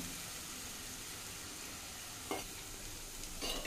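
Ground onion paste is stirred into a chole paneer curry in a pan, giving a steady, close sizzle with a couple of brief scraping strokes near the end. No talking.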